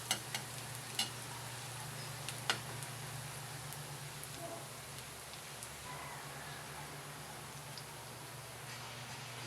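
Garlic and onion fry in hot oil for adobo with a low, even sizzle at a distance. A few sharp ticks rise above the quiet crackle.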